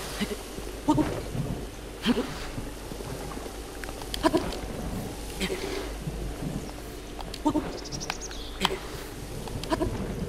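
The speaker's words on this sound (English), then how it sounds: "Perhaps this little lip will shelter me from the rain." Rain and rolling thunder in the video game Zelda Breath of the Wild form a continuous patter, broken by recurring sharp cracks and rumbles, as someone talks over it.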